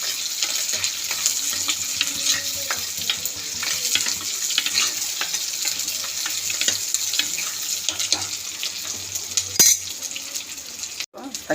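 Sliced shallots, about a handful, being sautéed in a pan for a fish curry, with a steady broadband frying sizzle and occasional stirring scrapes throughout, fairly close, no talking.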